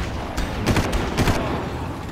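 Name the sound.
gunfire in video game Far Cry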